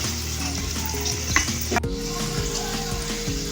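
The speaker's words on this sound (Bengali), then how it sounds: "এবার আমি একটা কাঁচা লঙ্কা ছেড়া ফোড়ন দিয়ে দিলাম" Green chilli dropped as a tempering into hot oil for masala ghugni crackles with a loud, continuous sizzle that holds steady throughout, with no voices.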